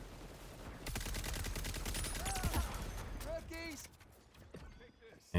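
Rapid bursts of assault rifle fire in the online shooter Concord crackle across the first few seconds, mixed with mechanical clicks and other game effects under light chatter.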